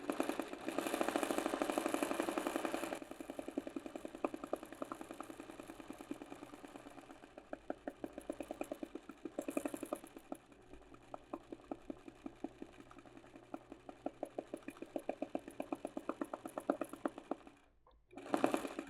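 A sewing machine runs free motion straight stitch embroidery on a shirt, outlining a flower design in a fast, steady mechanical rattle of needle strokes with brief pauses and restarts, close and alone.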